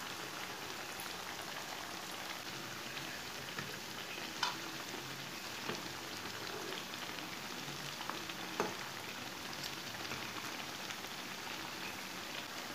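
Pakoras fry in a pan of oil with a soft, even crackle that stays faint and steady throughout, broken by a couple of small pops.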